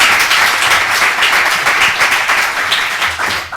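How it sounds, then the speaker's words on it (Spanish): An audience at a lecture claps steadily, a dense even wash of applause that carries on throughout. "Un aplauso, sí, por supuesto, podéis."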